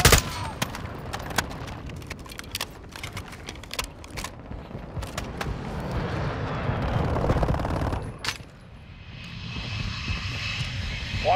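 Dense automatic gunfire rattles in a Call of Duty: Modern Warfare II match, layered with a roaring aircraft engine overhead, bursts nearly continuous before thinning out near the end.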